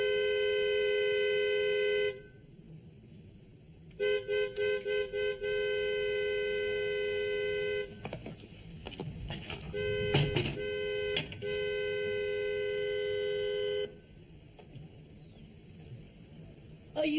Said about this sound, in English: Are you honking for my ears?